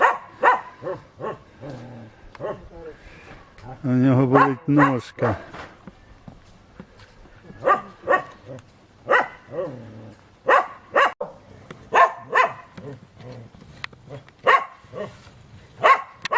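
A dog barks and yelps in several short, close bursts among refugees fleeing a village, while people talk intermittently around it.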